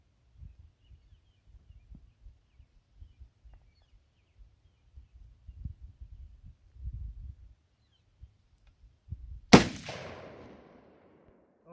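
A single sharp, loud rifle crack from a sporterized .303 British Lee Enfield No. 4 Mk 1 rings out near the end, trailing off in a short echo after quiet handling thumps and shuffles.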